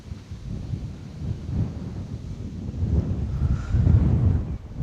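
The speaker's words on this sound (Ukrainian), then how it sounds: "От, і бачите вітер який" Wind buffets the microphone with a steady low rumble, swelling stronger toward the end.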